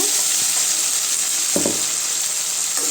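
Onions fry with ginger garlic paste and ground tomato for an egg curry, giving a loud, continuous sizzle close up with a few soft stirring scrapes and no talking.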